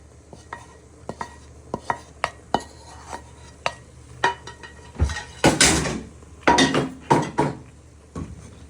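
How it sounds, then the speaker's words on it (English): Fried rice with egg pieces stirred in a pan: a run of close, irregular scrapes and clinks of a utensil against the pan, growing busier and louder midway with bursts of rattling, no talk. "And you want to give that a stir in, so that all gets nicely coated in."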